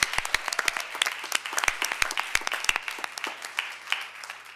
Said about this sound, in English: Let's clap for the.